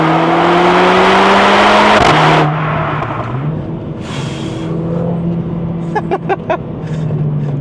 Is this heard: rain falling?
no